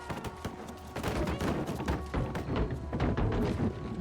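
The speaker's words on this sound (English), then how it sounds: "Follow the sounds of gunfire." Dense overlapping bursts of gunfire from a fight in the video game Baldur's Gate 3, loud and continuous across the whole stretch, with repeated sharp reports and thuds and no talk.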